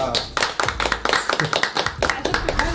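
A small group in Tunisia claps hands in applause, a brisk run of sharp claps fairly close by, with voices talking over the clapping.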